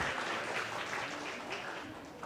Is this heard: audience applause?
yes